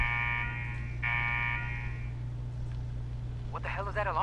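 Repeating electronic alarm tone in the Fallout 4 video game, sounding in two steady pulses over a low mechanical hum, followed by a voice speaking near the end.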